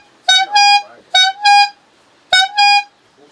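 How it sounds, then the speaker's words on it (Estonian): A loud emergency horn in a wheelchair-accessible waterless toilet gives three close, piercing honks, each a short double blast, heard alone at close range. "Aga kõige ägedam asi on võib-olla siis pasun, hädapasun."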